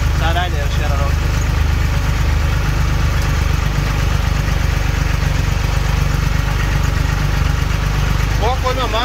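A tractor engine runs steadily at about 800 rpm during hay mowing, giving a continuous loud, low, rumbling drone with constant vibration throughout. A faint squeal is heard briefly near the start and again at the end.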